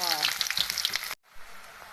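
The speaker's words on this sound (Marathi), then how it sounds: "आपलं तेल झालेलं आहे गरम आणि मी टाकतो त्यात कांदा" Chopped onion tipped into hot oil sizzles loudly in a dense, crackling burst for about a second, then after a brief cut a quieter, steadier frying hiss carries on.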